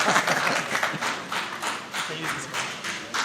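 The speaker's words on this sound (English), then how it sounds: "Please, let's clap for him, Abdul Salam." Audience applause at a forum, a steady broadband patter of many hands clapping for about three seconds with slight swells, fairly close and with no talk over it.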